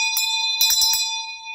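A small bell rung several times in quick succession, bright sustained ringing tones hanging clearly over quiet, with a few short strikes clustered in the middle of the clip and no talking.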